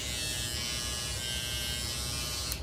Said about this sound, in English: it is such a smaller trimmer